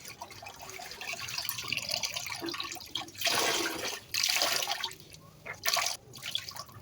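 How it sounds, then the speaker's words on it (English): Wet fermented pap grain mixture is squeezed by hand, giving bursts of splashing, trickling liquid that surge and pause in several waves, close and fairly loud against a low background hiss. "So squeeze out the whole juice from the grain"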